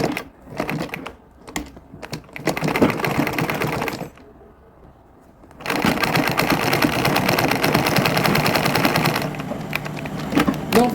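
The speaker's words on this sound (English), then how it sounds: "It's just a simple straight sewing." Sewing machine running straight stitches while joining the side seam of a bucket drawstring bag, in bursts of rapid stitching that stop for a pause and then resume for a longer close run.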